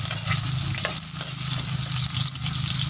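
Garlic and onion sautéing in a pan, a close, constant sizzle with soft scraping and stirring sounds from a utensil, alone without talk.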